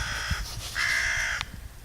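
Outdoor bird calls, two drawn-out harsh crow-like caws in close succession, fairly loud and near, with no talk over them.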